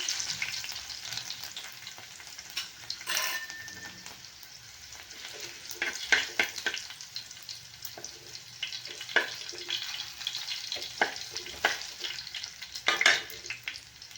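Cumin, mustard seeds, asafoetida and rough-crushed garlic sizzle and crackle in hot oil, a steady close frying hiss with scattered sharp pops and occasional stirring scrapes.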